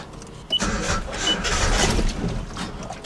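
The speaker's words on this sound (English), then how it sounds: "You put it in first, crank the starter, maybe a little bit more straight." A Nissan 720 pickup left in first gear is moved by cranking the starter, giving a brief grinding whir of the starter motor dragging the engine for about two and a half seconds, loud and close, with no talking.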